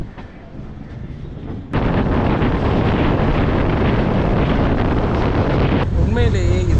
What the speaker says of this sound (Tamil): உண்மையிலேயே இது சூப்பரான கடமுட வண்டி தான். மற்ற ட்ரெயினில் எப்பயாச்சும் கேட்குற சவுண்டு இந்த ட்ரெயினில் எனக்கு பெரம்பூர்லேருந்தே கேட்குதுங்க